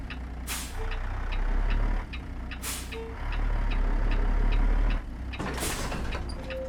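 Peterbilt 389 truck with a CAT C-15 engine backing up, with a steady diesel idle and rumble, repeated sharp air-brake hisses, and a reversing beep ticking in the background, close and loud.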